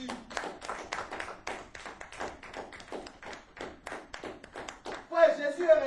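A church congregation claps for Jesus, quick rhythmic applause carrying on for several seconds, with a voice and music swelling in at the end.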